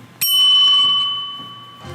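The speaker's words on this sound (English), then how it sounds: "Hit the bell." A single bell strike rung to close a live real estate talk show, bright and loud at first, its ringing tone sustaining and slowly fading over nearly two seconds in a quiet room.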